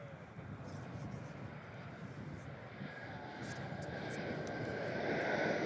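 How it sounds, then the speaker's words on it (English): An airliner arriving from Canberra touches down at Melbourne Airport, a steady broad jet roar that builds gradually in loudness as it nears, with faint crackles above and no talking. "Velocity 252 in from Canberra. Just touching down now."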